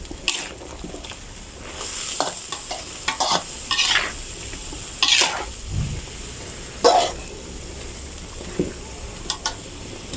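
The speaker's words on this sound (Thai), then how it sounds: "แล้วก็ผัดให้แครอทนิ่มก่อน" Carrots and chicken giblets are stir-fried in a pan, a close sizzle broken by frequent loud scraping and clattering strokes of the spatula, with a dog barking faintly now and then.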